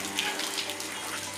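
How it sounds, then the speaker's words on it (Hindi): Water leaking and splashing inside a water tank, a steady hissing trickle with a faint low hum underneath, close and continuous with no voices. "पानी लीक हो रहा है"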